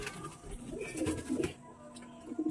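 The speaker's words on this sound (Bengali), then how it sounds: "এটা হচ্ছে মাদি পায়রা, মুখে সাদা" Pigeons coo in a home loft, low throaty calls repeating in short bursts at close range, with a quiet room hum between them.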